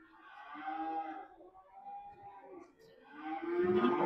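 Simmental and Limousin cattle at the Payakumbuh livestock market give a couple of drawn-out, nearby moos, one early and a louder one at the end, separated by quieter lowing.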